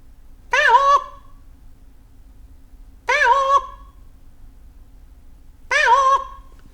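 A man imitates a peahen calling for her lost chick, voicing three loud, nasal, honking calls spaced a couple of seconds apart in an otherwise quiet setting.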